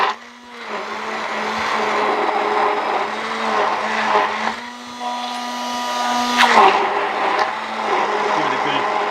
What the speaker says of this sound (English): this is a Philips blender